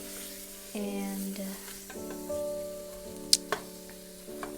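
Cumin seeds, a cinnamon stick, cloves and black cardamom fry in oil with a faint, soft sizzle. Sustained tonal notes run over it, a single spoken word is heard, and a couple of sharp clicks stand out.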